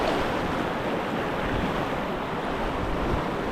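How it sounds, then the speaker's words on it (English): Sideways waves splash through a whitewater rapid strewn with boulders, a steady, loud broadband rush of churning water and wind that holds constant without a break. "sideways waves, sort of splashing"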